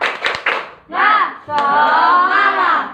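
A classroom of students performs a rhythmic clap routine, sharp bursts of hand claps close by, broken into short patterned groups with brief gaps.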